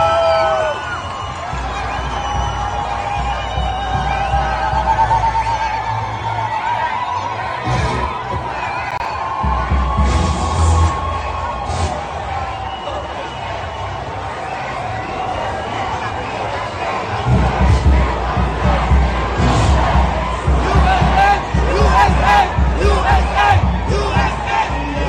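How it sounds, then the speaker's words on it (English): Large crowd cheering and shouting in the streets of Washington, D.C. during a celebration, a dense continuous roar of many voices with rising bursts of yelling, loud throughout and building further toward the end. "the streets were flooded with people cheering"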